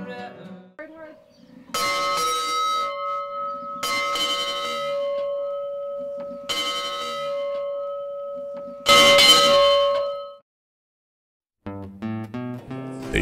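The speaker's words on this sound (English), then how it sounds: "when the dinner bell rings, it's time to eat" A ranch dinner bell at a Montana wilderness ranch rings out in four loud, sustained bursts with long ringing tones between them, followed by a brief pause and then softer, lower musical tones.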